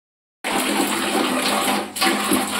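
Water from an electric geyser gushes loudly and steadily from a tap once it opens, with a brief dip partway through before the flow resumes.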